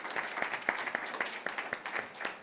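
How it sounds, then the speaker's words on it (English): A modest crowd applauds the candidates at a League of Women Voters county candidate forum, a fairly quiet, scattered patter of clapping with distinct individual claps, heard alone without speech. "Can we give all of our candidates a round of applause for being here tonight?"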